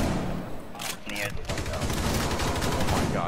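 Rapid shotgun fire in a video game, dense loud blasts in quick succession, up close and continuous, mixed with excited voices.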